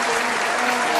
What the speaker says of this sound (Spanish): Por favor, un gran aplauso a nuestro público.